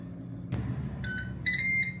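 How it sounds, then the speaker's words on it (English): Ninja Speedi cooker timer beeping, a short series of electronic beeps after a sharp click, close and clear in a quiet kitchen. "Okay, our timer just went off."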